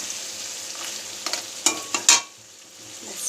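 Crab stir-fried in a pan until dry, with a faint low sizzle broken by a few sharp scraping stirs before the cooking falls quiet.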